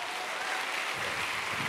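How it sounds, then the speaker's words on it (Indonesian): A church congregation claps during a sermon, a soft, steady wash of applause that swells slightly partway through and carries on without a break. "Kasih tepuk tangan buat Tuhan."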